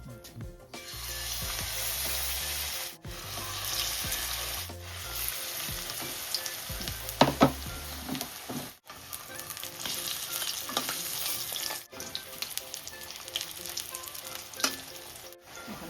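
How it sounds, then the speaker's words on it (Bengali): Cabbage pakoda fritters frying in hot oil, a steady close sizzle and bubbling hiss that runs throughout, with occasional scraping and stirring knocks from a spatula and no talking. "এখন আমি এটারে তেলের মধ্যে এটারে ফ্রাই করে নেব"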